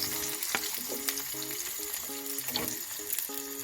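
Sliced onions with cumin and green chili sizzle steadily in hot oil, a close, bright frying hiss punctuated by soft clicks and scraping stirs, with no talking.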